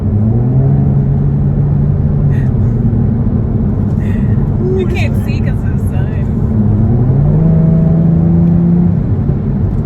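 Jaguar F-Type tuned to 450 hp pulling hard toward 70 mph, a loud steady engine drone with rising pitch as it builds speed, heard from inside the car while occupants talk.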